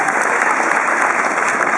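An audience applauds loudly and steadily at a French music event, dense clapping from a crowd filling the whole stretch without a pause.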